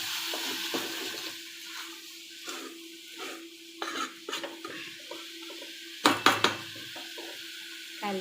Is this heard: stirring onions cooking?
yes